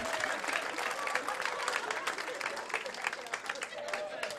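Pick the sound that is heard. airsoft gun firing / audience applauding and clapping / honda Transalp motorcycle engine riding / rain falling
audience applauding and clapping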